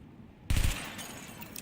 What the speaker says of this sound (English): Open fire at the highlighted targets.